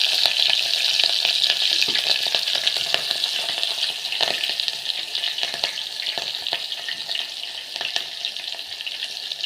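Green chillies sizzle in hot oil with mustard and cumin seeds, a steady close frying hiss with scattered pops and crackles throughout, and no voices.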